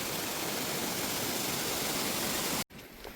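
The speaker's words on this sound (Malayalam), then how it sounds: "ഇതാണ് മൊണ്ടെസുമ വാട്ടർഫോൾസ്" Montezuma Falls in Tasmania roars as a steady, dense rush of falling water close by, filling the scene without pause until it cuts abruptly near the end into a quieter, thinner wash.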